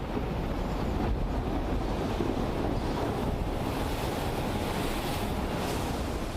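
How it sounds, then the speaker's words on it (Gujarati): Floodwater after heavy monsoon rain in Gujarat rushing over a road, a continuous dense roar of flowing water with wind, steady and unbroken throughout. "રોડ પરથી પાણીનો ધસમસતો પ્રવાહ જતો જોવા મળ્યો હતો"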